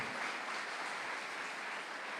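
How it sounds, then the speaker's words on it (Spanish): A church congregation claps together in sustained, dense applause, a broad even wash of many hands with no break for the full length. "Denle un aplauso al Señor por la vida de Sebastián."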